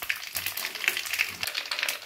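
Broad beans fry with cumin in a pan, giving a close, crackling sizzle with uneven pops and brief stirring scrapes over about two seconds.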